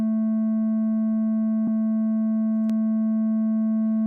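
A steady pure sine tone run through a Mellow analog-style saturation mode hums continuously with faint added harmonics, broken by two brief clicks.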